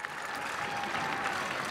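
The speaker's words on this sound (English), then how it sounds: "Round of applause for our valedictorian and salutatorian, Clarissa de la Garza." A crowd at a 2018 high school graduation ceremony applauds the valedictorian and salutatorian, a continuous, dense roar of clapping across a large venue, steady in level and heard alone.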